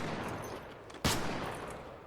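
A single sharp gunshot rings out in the middle of ARC Raiders gameplay, a loud burst standing over a steady bed of game ambience.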